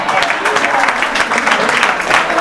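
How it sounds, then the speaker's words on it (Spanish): An audience breaks into brisk applause, a dense patter of many hands clapping at close range for a few seconds. "un aplauso para Ida"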